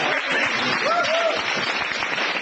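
A studio audience on a 1997 talk show claps steadily and fairly close, a continuous patter of many hands with faint voices underneath.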